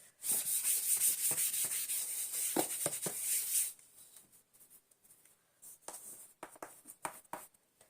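An eraser rubs out pencil writing on paper in a maths exercise, a dense scratchy rubbing for nearly four seconds followed by lighter, intermittent strokes.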